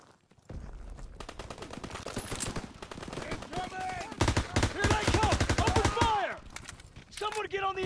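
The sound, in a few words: machine gun fire in video game Call of Duty WWII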